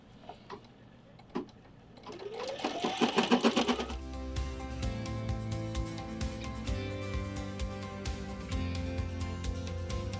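A sewing machine stitches the nose on a bunny drawstring sack, a few clicks and a brief rising whir before settling into steady, rhythmic ticking stitching that continues close and clear to the end.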